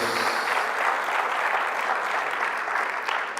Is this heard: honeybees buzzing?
no